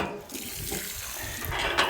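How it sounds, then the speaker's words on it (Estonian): Water gushes steadily from a stainless steel pump on a 14.5-meter-deep village well in a small town, a continuous close splashing flow with no talk. "nüüd vesi muudkui voolab."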